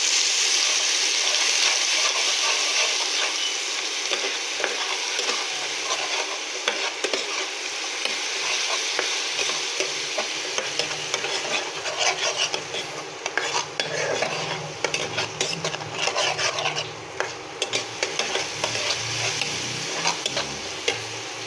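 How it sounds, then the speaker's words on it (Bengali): Whole spices with ginger-garlic paste fry in a pan for rohu fish korma while being stirred steadily, a bright sizzling hiss at first that settles into ongoing scraping and clinks of a spoon, with no speech. "2 চামচ আদা রসুন বাটা, মশলা ভালোভাবে আস্তে আস্তে নেড়ে ছেড়ে দিতে হবে।"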